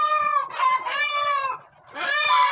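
A rooster on a poultry farm gives repeated harmonic clucking calls close by, two long bursts, a short break and then another call, loud and clear with no talking.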